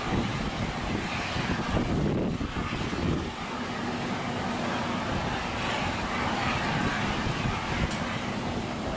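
A LATAM Airlines Boeing 767 jet landing or taking off at Fortaleza airport roars steadily nearby, a continuous broad engine rumble and whine that holds loud and even throughout, with faint traffic-like noise beneath.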